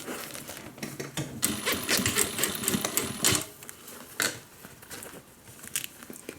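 Sewing machine stitching and back-stitching a half-inch seam on a homemade airliner cabin bag, a rapid close-up mechanical clatter in short bursts with uneven pauses.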